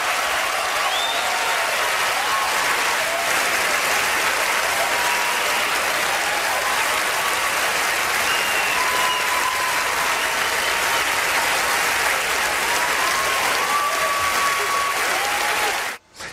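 Hollywood awards-ceremony audience on its feet in a standing ovation, dense sustained applause with crowd noise filling the whole stretch, steady and loud until it cuts off at the very end.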